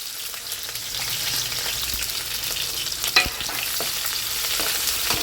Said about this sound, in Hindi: प्याज को हमें ब्राउन कर लेना है